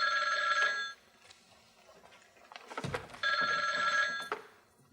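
An old-style telephone bell rings in two bursts separated by a pause, with faint rustling and a soft thud in between.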